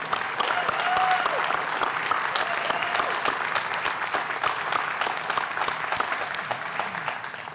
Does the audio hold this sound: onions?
no